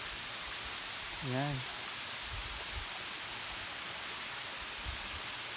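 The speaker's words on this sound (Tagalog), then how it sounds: "Lakas ng agos ng tubig." Strong rush of a hidden waterfall on Burias Island, San Pascual, Masbate, a steady broadband roar filling the whole stretch, with a brief voice and a few low thumps over it.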